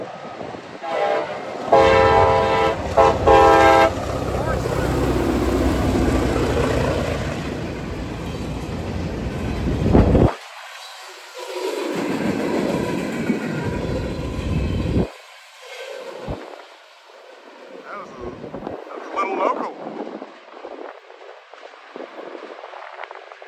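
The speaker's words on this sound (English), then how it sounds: "I think we got a train coming from the south" A freight train rolls past close by, loud horn blasts sounding early before the steady rumble and clatter of wagons carries on, fading somewhat toward the end.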